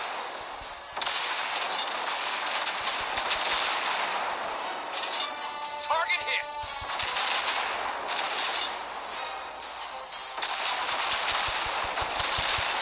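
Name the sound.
battleship secondary guns firing in video game World of Warships Blitz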